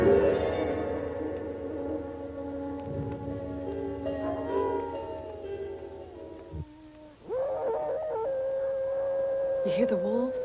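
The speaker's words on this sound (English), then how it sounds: "You hear the wolves?" Wolves howl at night in an old horror film, several long, layered howls overlapping and wavering in pitch, loud and sustained, breaking off briefly before a new rising chorus begins.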